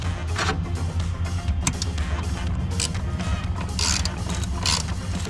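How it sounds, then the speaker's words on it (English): A ratchet tightens transmission bracket bolts on an E36-based BMW Z3 during a poly transmission mount install, producing rapid close metallic clicking in bursts over a garage background. "start doing our tightening on these trans bolts, or on the trans bracket bolts, and get those tightened down again"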